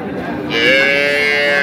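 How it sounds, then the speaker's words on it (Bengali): A cow at a livestock market lets out a single long, loud moo that starts abruptly and holds steady, with faint background noise before it. "গরু"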